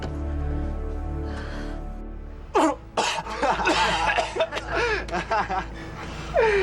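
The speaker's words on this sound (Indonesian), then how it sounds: "Batuk." A sudden burst of coughing breaks in after a steady low hum, followed by choked, irregular coughs mixed with voices.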